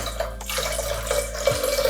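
Water runs into a pot of lentils for a Nepali-style dal fry, a short steady splashing pour that is close and clear, with no voices.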